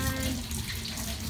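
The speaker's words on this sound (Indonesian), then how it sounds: "Zalifa lagi cuci tangan nih teman-teman" A child washes hands under a running tap at a sink, the water's steady broadband hiss continuing unbroken and close throughout.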